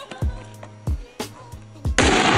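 Several loud, sharp explosive bangs like an M80 firecracker, going off close by in an irregular series, each with a short ringing tail, ending in a longer burst of harsh noise.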